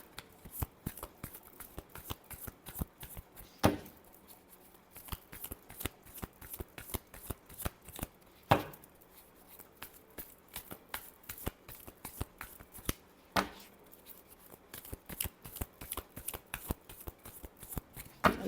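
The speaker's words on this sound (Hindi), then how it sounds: "Last shuffle." Tarot cards being shuffled make a long run of quick, close riffling flutters and soft slaps, steady rhythm with a few sharper snaps, no voices.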